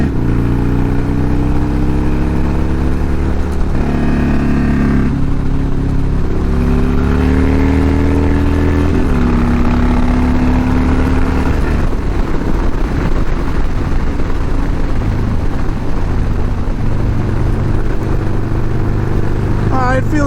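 A Harley-Davidson motorcycle out on a road ride, its engine droning loud and steady with pitch rising and falling through gear changes and throttle shifts, wind rush over the top and a rider's voice talking now and then.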